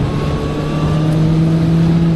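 A motorcycle engine holds a steady, loud revving drone close by, a smooth, constant tone with no voices over it.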